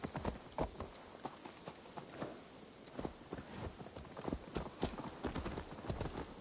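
A horse's hooves clip-clop steadily in the video game Assassin's Creed Valhalla, with a brisk, fairly even rhythm of crisp close hoof strikes that runs throughout.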